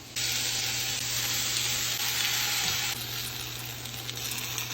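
Eggs, spinach and tomato sizzle steadily in a pan, a loud continuous close-up frying hiss with a faint low hum underneath and no talking.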